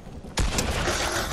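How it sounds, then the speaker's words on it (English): Gunfire in the Fortnite video game: after a quiet moment, a loud burst of shots erupts and continues as a dense, rattling volley until the end. "they're shooting me from Citadel"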